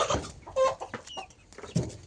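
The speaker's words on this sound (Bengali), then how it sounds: "দেখেন এটা হচ্ছে রাতা।" A rooster at a poultry stall, where white chickens are sold, gives loud, close clucks and short squawks in uneven bursts, with faint bird chatter behind.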